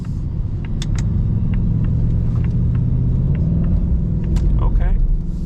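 A 2025 Ford Mustang GT engine hums with a steady, loud low rumble from inside the car while cornering, and a voice talks over it briefly.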